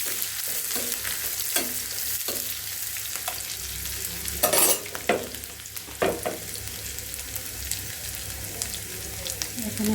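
Sliced bitter gourd and potato frying in a pan, a steady close sizzle with stirring scrapes and a louder burst of spattering midway, no talk.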